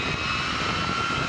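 A B-52 Stratofortress bomber drones steadily overhead, its jet engines producing a constant, broad roar with a faint high whine layered in, unbroken for the whole moment.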